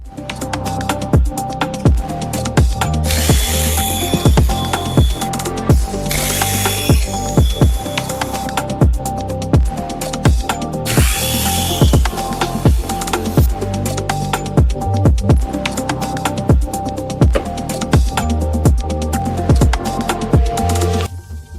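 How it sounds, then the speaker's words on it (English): A hand ratchet works 10mm bolts on the shift motor housing of a Honda Foreman ATV, giving a dense, steady run of rapid clicking pawl strokes close up, with brief bursts of brighter rasping and no talk. "Now we're going to start working on these 10mm around the case here and the shift motor down here"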